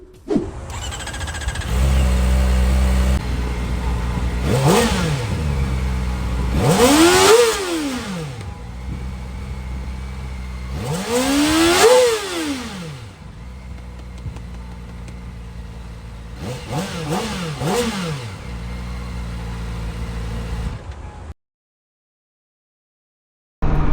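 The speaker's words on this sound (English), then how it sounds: "now I think I'm going to get you guys an exhaust clip of this sweet little beast" A Kawasaki Ninja ZX-4R inline-four motorcycle revs through its exhaust, with several sharp, high-pitched sweeps up and back down between steady idling, recorded close with no talk, and it cuts out near the end.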